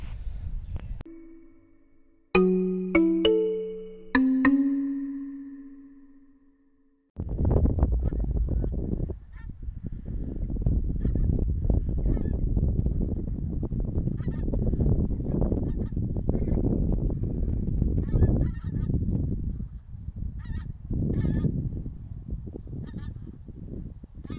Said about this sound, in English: they seem to be quite happy, these beautiful wild birds